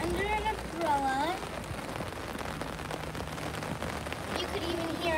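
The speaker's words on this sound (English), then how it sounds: "You could even hear how loud it's raining." Heavy rain pours steadily around someone under an umbrella, a dense, constant hiss and patter heard close throughout while someone talks over it.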